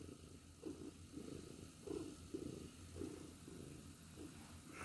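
A cat purrs softly and steadily up close, its rhythmic rumbling pulses repeating about once a second, quiet and alone.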